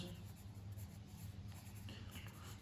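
Pen scratching figures onto paper during an accounting class, a soft, faint, continuous scribble close to the microphone, with no voice over it.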